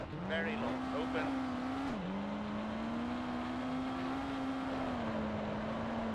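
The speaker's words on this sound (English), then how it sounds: "Again, the car sliding a little bit." A rally car in the V-Rally racing game slides through a stage, its engine droning steadily at a high pitch with a brief dip as it loses grip, heard continuously under faint background noise.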